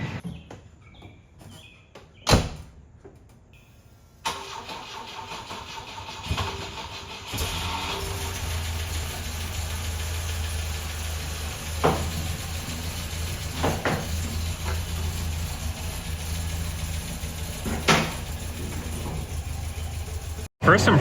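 A Volvo 142 with freshly reworked front suspension driving along a rough road, its engine droning low beneath sharp clunks and thumps from the chassis over bumps.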